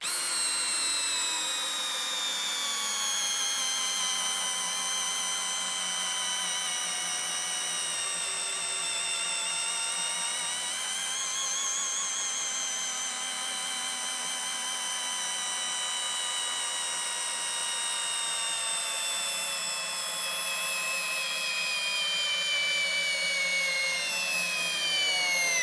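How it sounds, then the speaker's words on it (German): A Bosch GSR 18V-90 C cordless drill drives a 60 cm fully threaded 10 mm screw, its motor whining steadily and loudly throughout with a slowly shifting pitch and no speech. "Das ist eine 60 cm Schraube, Vollgewinde. Also Wahnsinn. Das können diese Akkuschrauber."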